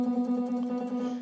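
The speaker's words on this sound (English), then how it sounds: "If you just get this sound like this, right? Just picking one note." A single note is picked repeatedly on a blues guitar, with the picking motion driven from the forearm, giving a steady sustained tone with faint rapid pulsing, close and alone.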